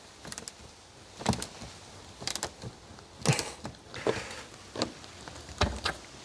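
A stuck bolt being turned on a uPVC patio door hinge gives about six separate creaking, ratcheting bursts with short pauses between them, close up and without talk.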